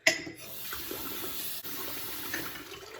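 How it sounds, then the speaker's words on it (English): Tap water runs steadily into a mason jar, a close, even rushing splash that starts abruptly and continues for a few seconds with no talking. "and I'll fill it up with water"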